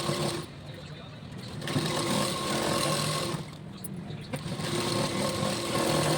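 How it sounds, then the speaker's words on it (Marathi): A sewing machine stitches along the lining and waist side of a blouse, whirring in steady bursts with brief pauses between runs, fairly loud and close. "कमरेच्या साईडने पण एक शिलाई टाकून घेऊया आपण"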